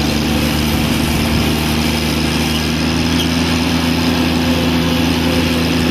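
A 1988 John Deere 322 garden tractor engine runs at a steady idle, a continuous low, even drone that stays loud and close for the whole stretch with no talking over it.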